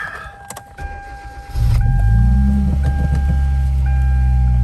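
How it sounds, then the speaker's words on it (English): An electric power seat motor in a Hyundai Veloster drives the seat forward with a loud, steady, low mechanical hum that starts after a few faint clicks and runs on evenly to the end. "So, now let me scoot the seat forward."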